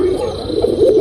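Giribaz pigeon cooing close by, a soft low throaty coo rising and falling in a brief one-second phrase.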